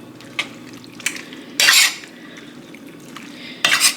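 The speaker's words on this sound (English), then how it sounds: "So now you want to stir in your pasta." Cooked pasta is stirred into sauce in a pan, with two loud, wet scraping swirls of a utensil against the pan and a few lighter taps in between.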